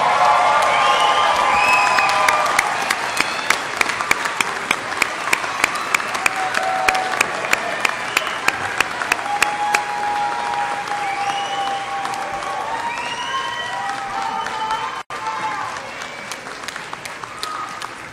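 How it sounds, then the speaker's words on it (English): Audience at a Rockingham Community College summer commencement gives the graduates a long, sustained round of applause, dense and loud at first, then thinning as scattered cheers and individual claps stand out. "Please stand and applaud our graduates."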